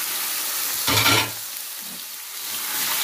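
Alexandrian-style beef liver hits a hot pan with a sudden loud sizzle that flares for about half a second, then settles into a steady, fainter frying hiss, close-up with no talking.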